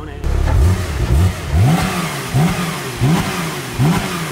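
A car engine is revved repeatedly nearby, six or so loud rising bursts at a steady rhythm with idle dips between them.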